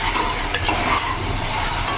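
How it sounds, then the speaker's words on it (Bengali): Fried potatoes are stirred into a sizzling, well-cooked masala in a pan, giving a dense, close frying hiss with a few soft scraping stirs throughout. "এবার ভেজে রাখা আলুগুলো আমি দিয়ে দেবো।"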